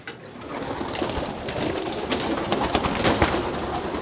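Pigeons coo continuously inside a white racing pigeon loft in Belgium, a dense, steady murmur of many birds close by with a few louder calls rising above it, and no talking.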